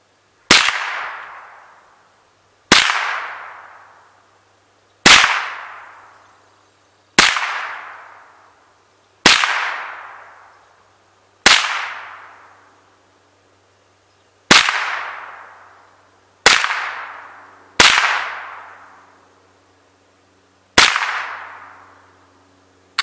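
Ruger 10/22 rifle firing at a bottom target outdoors: ten sharp, loud single shots spaced roughly two seconds apart, each a crisp crack with a short ringing decay, and no talking.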